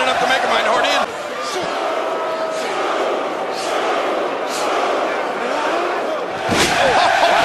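A packed WWE Raw arena crowd chants for Bray Wyatt, loud rhythmic massed voices with sharp claps and thuds cutting through, while a commentator talks over the din.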